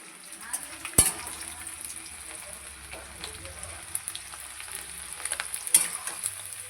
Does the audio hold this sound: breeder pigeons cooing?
no